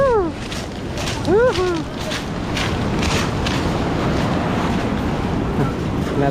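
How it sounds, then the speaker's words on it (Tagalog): Big ocean waves at high tide break against a rocky shore, a loud, continuous surf roar mixed with wind buffeting; a few high chirping calls sound early on. "Lalaki ng alon."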